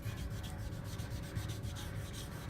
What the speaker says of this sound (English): So I'm just sanding to see what my surface looks like